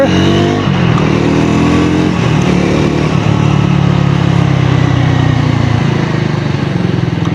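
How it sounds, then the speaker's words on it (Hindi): A Triumph Tracker 400 motorcycle with a dual-barrel exhaust revs up loudly nearby, its exhaust note rising and then settling into a steady throaty drone. "Tracker has the best sounding exhaust."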